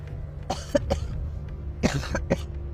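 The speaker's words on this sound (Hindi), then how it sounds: "क्या हुआ, खांस क्यों रही हो?" A woman coughs several times in short bursts indoors, a few clipped coughs scattered over a low steady background hum with no talking.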